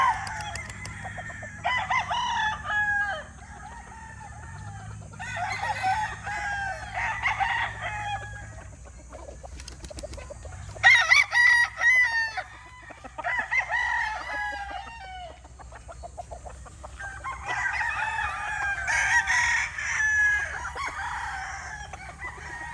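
Gamefowl roosters crow again and again, loud and close, over a steady background of clucking and low farmyard rumble.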